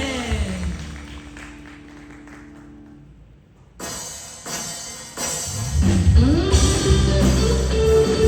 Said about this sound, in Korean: 하나님께 영광 박수를 드립니다.